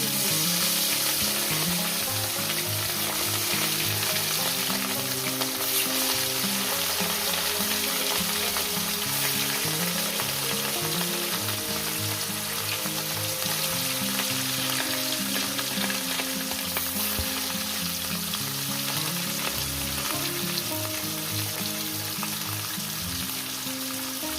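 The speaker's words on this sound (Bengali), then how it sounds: "যেহেতু মাছ ভাজবো দিয়ে দেবো মাছের" Rohu fish pieces fry in hot oil in a pan, a dense, steady crackling sizzle that stays loud and close throughout with no voices.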